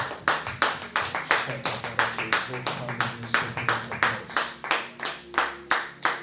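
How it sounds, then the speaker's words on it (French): A church congregation at a prayer and prophecy service claps for the Lord in a steady, loud, rhythmic beat, with many hands striking together on each pulse and voices mixed underneath. "Applaudis juste pour le Seigneur"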